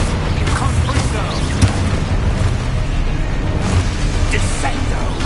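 Confringo fire spell cast in the video game Hogwarts Legacy, one blast among dense, continuous game effects of booms, bursts and rumbling, steady and loud throughout.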